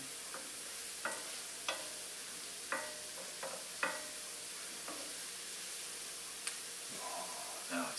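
White clam sauce sizzling in a hot pan, a steady close hiss with scattered clinks and scrapes of stirring, no talk.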